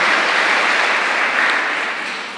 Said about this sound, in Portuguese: Uma salva de palmas para as nossas crianças.